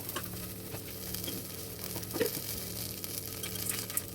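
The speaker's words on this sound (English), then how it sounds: "and saute them on low flame" Peanuts, clove, cumin seeds and coriander seeds sauté in a pan on low flame, making a soft, continuous sizzle with light stirring scrapes and scattered small crackles, with no voices.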